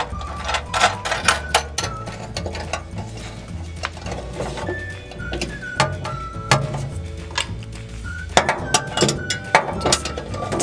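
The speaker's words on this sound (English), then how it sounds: "using a 10 millimeter socket, we're just simply going to unscrew that little screw so we can remove the plate" A ratchet with a 10 mm socket clicks rapidly and repeatedly while backing screws out of a towel steamer, in close, uneven bursts of metallic ticking.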